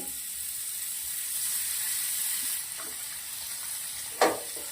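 Butter sizzles at the side of a pan holding a sprouted-bean snack, a faint steady frying hiss with a few small clinks and one sharp tap near the end.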